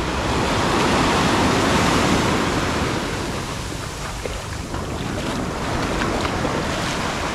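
Surf at a beach in Nha Trang, Vietnam, rolls in as a broad, steady wash of breaking waves mixed with gusty wind noise on the microphone, loud and continuous, with no one talking.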